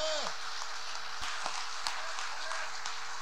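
Live audience applause at a Hindi poetry recital in Bangkok, a steady broadband wash of many hands clapping that carries evenly through the whole stretch, moderately loud and fairly close.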